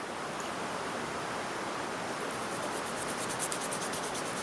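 A Groda knife with a Scandi grind is forced through 1.5-inch thick rope, a continuous close rasping, fibrous rubbing noise, moderately loud and alone.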